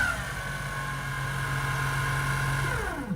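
A servo motor drives the spindle of an Emco Unimat SL-200 lathe at high speed, a close, steady whine with tonal harmonics that drops sharply in pitch as it spins down at the end.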